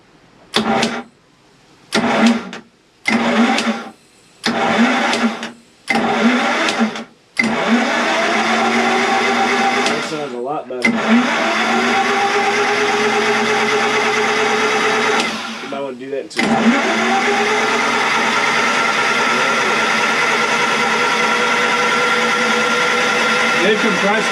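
A 1992 Sea Ray 380 Sun Sport boat engine cranks in several short bursts with pauses between, then catches into a loud, steady mid-pitched run that holds to the end with one brief dip.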